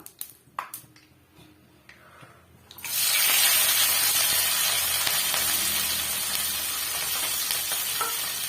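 Green chilies and curry leaves drop into hot oil with popping mustard seeds for a snake gourd poriyal; a few sharp crackles give way to a sudden loud, sustained sizzle that stays close and steady.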